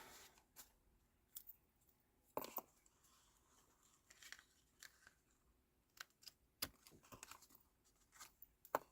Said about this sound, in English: Get a good sharp pair of scissors.